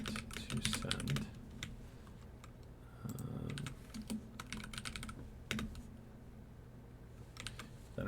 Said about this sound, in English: type in the email you want to send